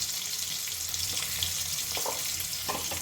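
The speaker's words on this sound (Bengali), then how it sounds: "দিয়ে দেব জল ভালো করে একটু মিশিয়ে নেব সব কিছু একসাথে" Water poured into a pan of mustard hilsa curry seasoned with turmeric and Kashmiri chilli powder, a close, continuous rushing splash with a faint sizzle underneath.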